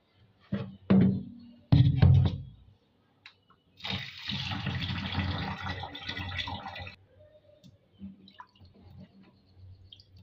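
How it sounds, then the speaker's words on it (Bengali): Freshly cut potatoes rinsed under running water for a chicken and potato curry: two short splashing bursts, then several seconds of steady pouring and splashing, fading to faint drips and handling. "এবার আমার আলু কাটা হয়ে গেছে, এবার আমি সুন্দর করে ধুয়ে নিব।"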